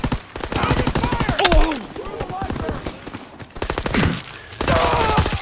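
Rapid machine-gun fire from the World War II shooter Call of Duty: WWII, dense repeated bursts that are loud and near, with voices calling out over the shooting.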